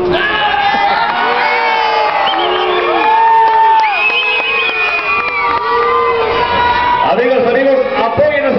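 Crowd at a lucha libre wrestling festival cheering, whooping and shouting continuously and loudly, with voices rising above the dense roar and a burst of excitement near the end.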